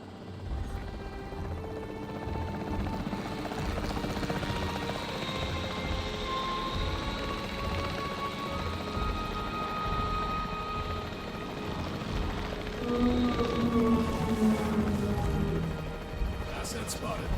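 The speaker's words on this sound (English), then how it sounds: "The priority needs to be tranquilizing it with the capture team chopper." A capture team helicopter in the video game Jurassic World Evolution 3 whirs steadily throughout, a constant rotor drone that swells slightly near the end, with a voice speaking over it.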